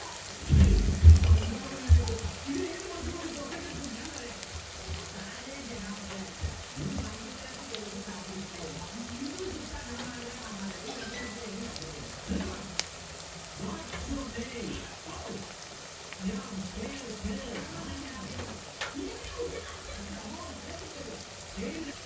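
Crushed garlic and curry leaves sizzle steadily in a hot pan while being stirred, a continuous hissing crackle with a few louder scrapes at the start and a voice talking over it.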